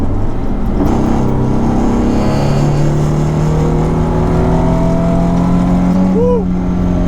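A Nissan 300ZX Z32 with an automatic transmission revs while driving, its engine note rising and falling in a loud, continuous drone heard from inside the car, with a brief chirp near the end.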